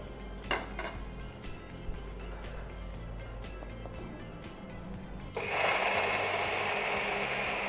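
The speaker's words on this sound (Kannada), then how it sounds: "ಈಗ ನಾವು ಮಿಕ್ಸಿ ಜಾರಿಗೆ ಹಾಕಿ ಇದನ್ನು ಪುಡಿ ಮಾಡ್ಕೊಂಡು" A mixer grinder jar holding roasted parboiled rice and dal clicks and rattles into place, then the motor roars to life about two-thirds through and keeps grinding loudly to the end.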